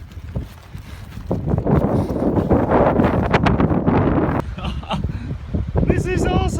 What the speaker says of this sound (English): wind is so strong.